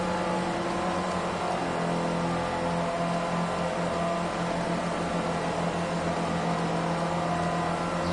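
Racing cars in Project Cars 2 roar steadily throughout, a continuous dense engine drone with layered harmonic whine from a pack of cars on track, loud and unbroken with no pauses.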